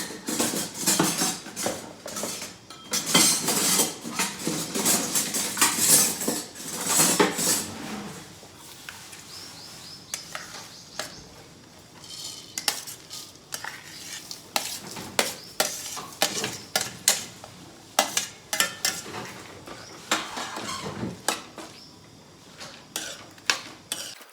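Poppy seeds and other ingredients roast in ghee while being stirred, with a busy run of scraping and clinking utensil strokes, heavier at first, then sparser, sharper taps over a soft frying hiss.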